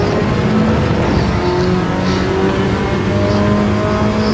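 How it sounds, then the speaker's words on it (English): Race car engine in Gran Turismo 7 during a wet race with spray, a loud continuous droning roar with steady pitch held close throughout, no talk over it. "You can see the spray coming off of Hodgie's car, which cuts the visibility down."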